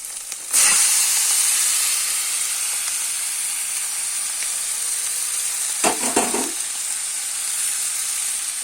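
Boiled chowmein goes into a wok with fried egg and onion, a loud steady sizzle and steamy hiss throughout, with a brief clatter of stirring partway through.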